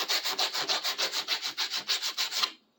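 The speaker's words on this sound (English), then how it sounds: "Let's give this sandpaper its last hurrah." Sandpaper rubs back and forth by hand over a surface in about a dozen quick, even strokes, close and scratchy, before stopping abruptly.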